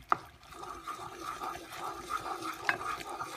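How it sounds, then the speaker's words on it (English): Coloured hard candy syrup stirred in a pot, giving a soft, continuous scraping swirl with a couple of sharp utensil clinks near the start and later on. "And now we're going to stir it."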